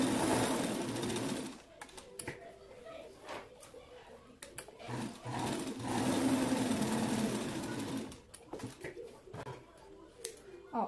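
A sewing machine stitches buttonholes on a draped dress with batwing sleeves, running in several bursts separated by pauses filled with handling noises, fairly quiet and close.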